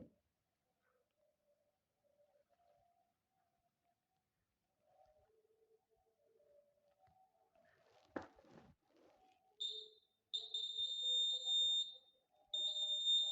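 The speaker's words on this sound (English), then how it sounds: "this is the buzzer, and we check whether this buzzer is in perfect condition or not" An electronic buzzer wired into a simple LED series test circuit gives a shrill, steady tone that cuts in and out in short bursts, preceded by faint clicks of terminals being touched.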